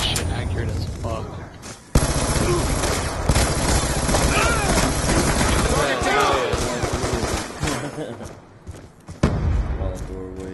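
Rapid bursts of M27 rifle fire in Call of Duty, loud and close, with dense strings of shots broken by short pauses and a sharp burst near the end.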